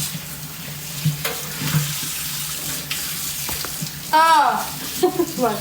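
Tap water runs steadily into a kitchen sink as items are washed, a close, continuous rush with small clatters, and a voice briefly rises over it near the end.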